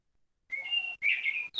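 Canary singing close by, bright sustained whistled phrases in two bursts separated by a brief gap, alone without talk.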